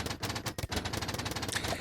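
Rapid-fire tower shooting in a video game, a dense burst of quick machine-gun-like shots crackling in fast succession, loud and close, with a brief gap midway before the barrage resumes.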